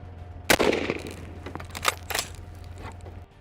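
Gunshots ring out while hunting invasive camels in the Australian outback, with one sharp report followed by a few quieter cracks and crunchy bursts over a low steady hum.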